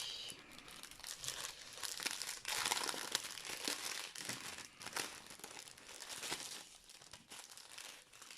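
Soft, close crinkling and rustling of small plastic zip bags from a diamond painting kit, handled in irregular bursts, quiet overall.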